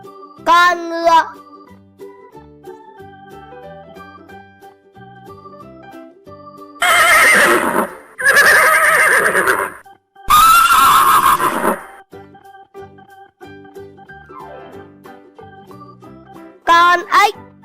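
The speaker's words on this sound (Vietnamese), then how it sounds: "Con ngựa." A horse neighs in three loud, strong whinnies in the middle, set over light background music. Brief child-like vocal bits are heard at the start and end.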